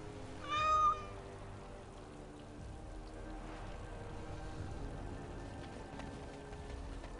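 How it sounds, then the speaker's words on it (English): A kitten in the video game Dragon Age: Origins gives a single short, clear meow near the start, followed by a steady patter of rain in the game's ambience. "A kitten."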